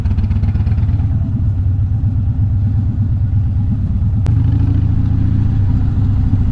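A Chevrolet C10 pickup truck rumbles nearby in a city alley with a deep, steady engine drone that barely changes, plus one sharp click partway through.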